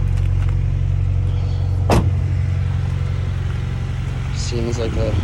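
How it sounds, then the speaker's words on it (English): Honda Integra with a newly installed exhaust idling after a cold start, a steady low engine drone with a sharp click partway through and faint chirps near the end. "it's not that aggressive of a cold start, which is nice actually"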